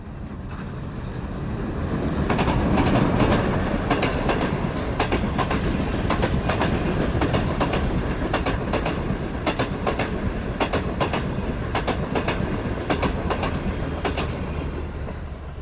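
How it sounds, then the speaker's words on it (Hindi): A train passes along a railway track near a century-old railway bridge, a loud continuous rumble with rhythmic clickety-clack of wheels over rail joints, close and steady with no talking. "इस साइड पे ये ट्रेन आ रही है"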